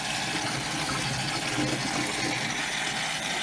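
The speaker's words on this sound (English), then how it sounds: "I'm going to turn on the cold water max." Cold water runs at full force from a kitchen sink tap, a steady loud gushing rush with no pauses and no voices.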